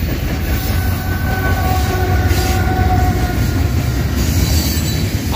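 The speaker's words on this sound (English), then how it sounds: "Holy goodness, this is a great train." A Norfolk Southern mixed freight train rolls past, loud and close with continuous heavy rumble, rattling cars and a thin wheel squeal throughout, and no talking.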